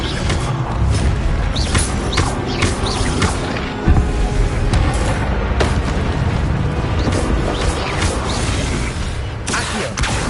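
The Incendio fire spell is cast in Hogwarts Legacy, a loud, continuous roaring blaze of flames with a brief thump partway through.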